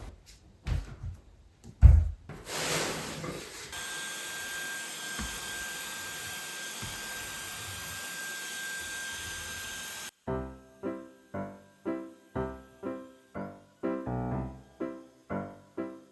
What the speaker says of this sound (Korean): 고무 패킹에 쫙 달라붙은 먼지는 청소기로도 안 빨리더라고요.